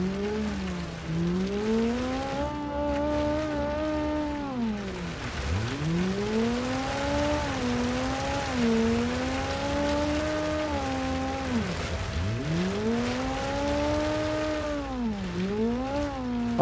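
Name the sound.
rally car driving and sliding in BeamNG video game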